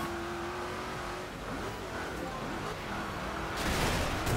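Car engine revving hard during a race in Forza Horizon 2, a steady loud engine roar with shifting pitch and a brief rise at the end, while a voice talks faintly underneath.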